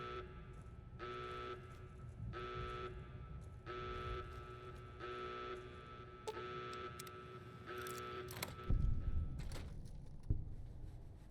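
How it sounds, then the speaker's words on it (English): Repeating alarm in the Fallout New Vegas video game at REPCONN HQ, a series of evenly spaced electronic blares at moderate level, with a few thumps and clatters near the end. "at least that alarm quits it once you change levels in"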